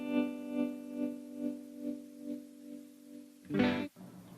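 An electric guitar plays through a Chase Bliss Ayahuasca pedal, giving a sustained overdriven tone with slow pulsing swells and a louder burst near the end, quiet overall.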